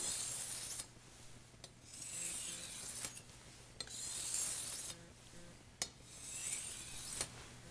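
A kitchen knife is drawn across a 1200 grit sharpening stone in slow, steady strokes, each a soft, close gritty rasp separated by brief scraping clicks, with no voices.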